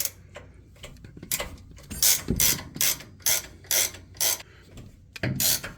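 Self-ratcheting wrench working an 18 mm bolt during a 2-inch level kit install on a 2022 Ford F150, giving repeated bursts of close metallic ratchet clicking in a steady rhythm with short pauses, no talking.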